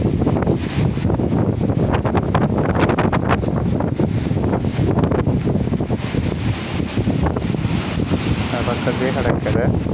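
Strong cyclone wind battering a microphone on the Sri Lankan coast, loud continuous roaring gusts with rushing surf beneath, a voice speaking faintly through it.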